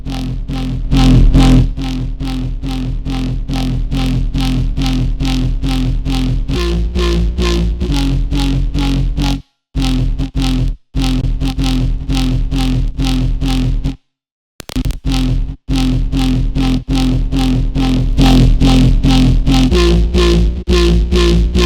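A loud, buzzing distorted bass synth in FL Studio pulses in a steady rapid rhythm, its pitch stepping between notes, with a couple of brief dropouts.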